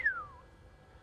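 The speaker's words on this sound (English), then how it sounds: "If we could actually hear the bat sound, it would sound like this." A chocolate wattle bat echolocation call slowed down to be audible, a single thin whistle-like tone sweeping quickly from high to low pitch, faint and brief over quiet background hiss.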